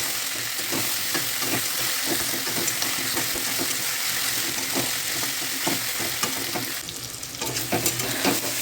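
Garlic and ginger paste with spices stir-fried in a pan for a simple potato and pointed gourd curry, a loud continuous sizzle broken by repeated scraping strokes of a spatula.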